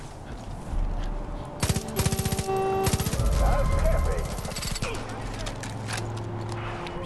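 Gunfire in Far Cry 5: rapid automatic bursts and single shots crackling loudly in clusters, with someone talking over parts of it.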